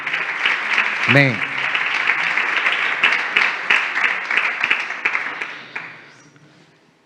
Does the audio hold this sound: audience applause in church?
yes